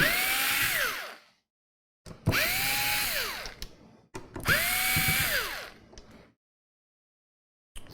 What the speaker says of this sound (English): that cordless driver just makes light work out of this tedious task